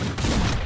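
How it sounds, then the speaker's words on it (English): Weapon super attack going off in the Brawlhalla fighting game, heard as a brief, loud burst of dense rapid fire with no talking. "if you have a different weapon and you hold down B, it does a different super attack"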